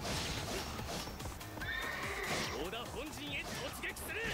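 A horse whinnies loudly amid busy sounds of Samurai Warriors 4-II's Battle of Nagashino, with hoofbeats clopping and a voice talking over the action.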